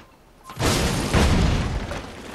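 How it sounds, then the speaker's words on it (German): A bomb explodes in a video game: a loud, sudden blast with a deep rumbling tail that swells again briefly before fading, with no voices over it. "So, noch eine Bombe. Das ist eine richtige Bombe."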